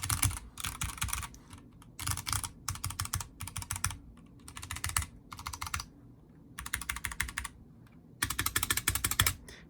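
Typing on a Vortex Race 3 mechanical keyboard with Cherry MX Brown switches and a tape mod, quick bursts of soft clacky keystrokes separated by short pauses, close and fairly quiet.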